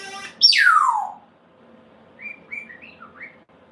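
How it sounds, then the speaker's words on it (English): A cockatoo gives one loud, close whistle that slides downward, then after a pause a series of softer, short chirping notes. "He's doing this whistling sound a lot now that Ken does to him."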